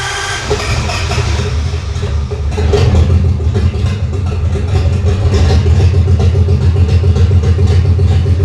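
A Flathead V8 engine running rich at about a 10 to 1 mixture during tuning, a loud steady low rumble with a slight rise in revs partway through, close and alone.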